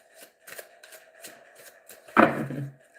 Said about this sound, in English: So I'm just going to give these a real good shuffle